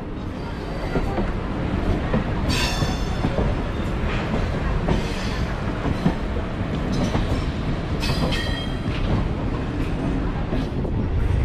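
A MEMU passenger train runs steadily on rails between Asansol and Purulia, with a continuous rumble heard from inside the coach and sharp clicks from the wheels over rail joints.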